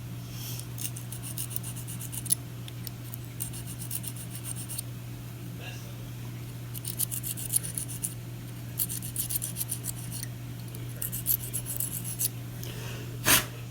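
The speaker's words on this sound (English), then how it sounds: "I'm going to go ahead and clean these contacts here." Electrical contacts on a Whirlpool Duet washer door lock being cleaned, giving soft, faint rubbing and rasping scrapes in intermittent bursts over a steady low electrical hum, close by and with no talking.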